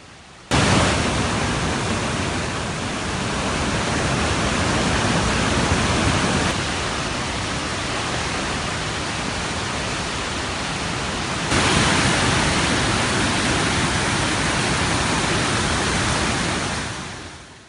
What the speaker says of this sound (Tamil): தொடர் மழை காரணமாக கோவை குற்றாலம் அருவியில் வெள்ளப்பெருக்கு ஏற்பட்டுள்ளது